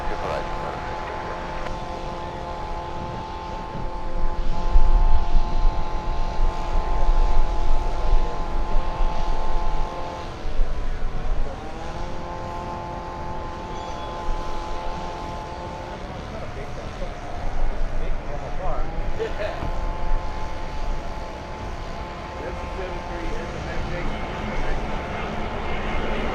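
Heavy airliner landing on runway 24 Right at LAX, a loud sustained jet engine whine and rumble that swells, shifts pitch as it passes and rolls on the runway, with a steady tonal hum throughout.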